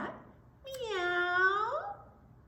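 A single drawn-out meow made by a human voice imitating a cat, rising then falling, close and clear.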